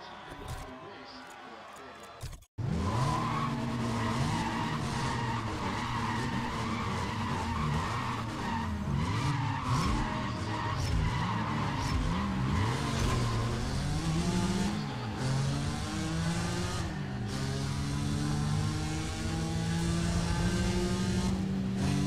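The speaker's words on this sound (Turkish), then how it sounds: "Araba niyeyse çok dengesiz gidiyor." A race car in Need for Speed ProStreet skids and squeals continuously with its engine revving and shifting pitch. A sharp start kicks off a steady, loud stretch of tire noise and motor whine.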